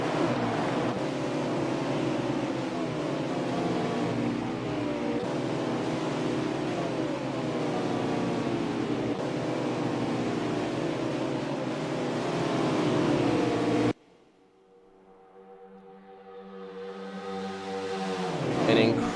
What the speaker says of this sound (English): 15 juiced up, souped up race cars just charging through this wide Alabama backstretch